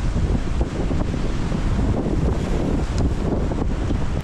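Strong, steady wind buffets the microphone on a beach at Macau, a continuous roaring rush with faint surf beneath it and no speech.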